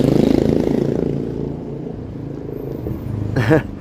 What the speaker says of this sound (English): It was a loud motorcycle for not being a Harley.